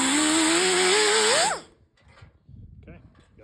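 A power tool cuts through fender metal on a 1964 Chevy Impala, a loud whining drone with a rising pitch that cuts off sharply after about a second and a half, leaving quiet shop rustling.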